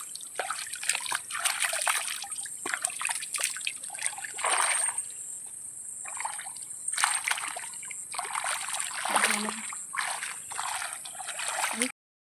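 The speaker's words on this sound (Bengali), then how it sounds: "এখানে একটু পায়ে হাতে একটু জলটা নিয়ে নিই" Water pours and trickles over hands and feet outdoors, a steady splashing and dribbling that runs nearly unbroken for about twelve seconds, with brief pauses and bursts of heavier splatter.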